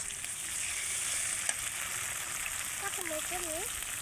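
Whole spices such as bay leaf, cinnamon and cloves fry in hot oil for chicken curry, giving a continuous even sizzling hiss with a brief faint voice near the end.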